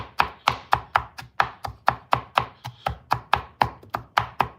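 A knife mincing vegetables finely on a cutting board, with about seventeen quick, evenly spaced chops in a steady rhythm, close and crisp, with no voices.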